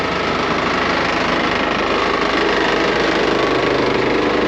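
A Vermeer wood chipper's engine runs steadily at a constant loud, rough drone with a fast mechanical knock, close by and uninterrupted, with no talking.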